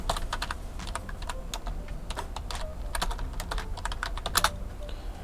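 A bank branch name being typed on a computer keyboard: rapid, close, crisp key clicks in an uneven burst-and-pause rhythm, with a louder flurry near the end.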